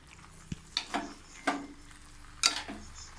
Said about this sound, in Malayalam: എന്നിട്ട് അത് ഇതിലേക്ക് നന്നായിട്ട് മിക്സ് ചെയ്യാണ്.